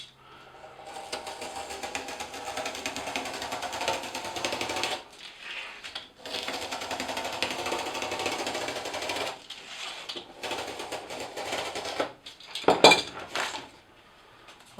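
Recycled cardboard is cut down the middle in long, steady rasping stretches broken by short pauses, close and moderately loud, with a sharp crunch near the end.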